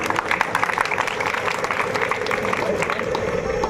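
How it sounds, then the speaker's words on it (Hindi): Applause from a crowd at a Bhagwat Katha religious gathering, a sustained patter of clapping over a murmur of voices and room noise that holds steady throughout. "एक बार इनके लिए जोरदार तालियां।"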